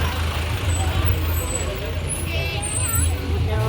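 A tour vehicle with air brakes pulls in at Ramoji Film City in Hyderabad, its steady low engine rumble running throughout with faint high hisses, while voices murmur nearby.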